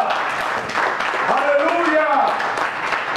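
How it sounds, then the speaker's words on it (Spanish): Pentecostal church congregation clapping loudly and steadily in praise, with voices shouting and a sustained cry rising over the applause. "¡Denle un aplauso fuerte al Señor!"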